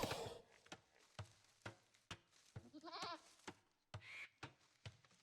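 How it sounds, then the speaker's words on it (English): Goats bleat repeatedly in a medieval strategy game match, a short wavering bleat standing out amid sharp clicks and chopping-like hits, all fairly close and moderately loud with no talking. "Goats."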